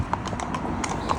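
Hooves of a 23-year-old horse clip-clop on a main road while hacking out, a steady rhythmic run of hard strikes close by over low outdoor background noise.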